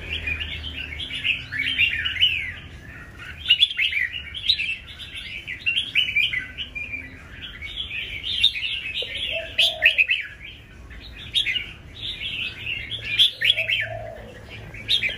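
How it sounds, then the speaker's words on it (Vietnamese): A red-whiskered bulbul, recovered from a leg injury, chirps in lively, repeated bursts of bright, high tweets throughout, close and fairly loud, with a few softer coo-like calls in the background. "bây giờ con chim của mình nó đã bay nhảy"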